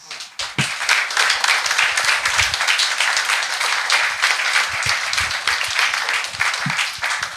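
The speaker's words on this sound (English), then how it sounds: "I want to give please an applause to our speakers." Applause for the speakers at an opening reception: a few scattered claps swell quickly into full, sustained clapping from a sizeable audience, steady and fairly close, with no speech over it.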